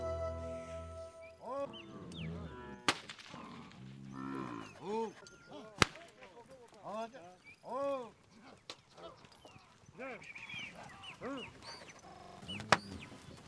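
A cattle herd in the Pantanal marshes lowing and mooing, several animals calling in overlapping, uneven bursts, with occasional sharp whip cracks cutting through and a voice talking at times.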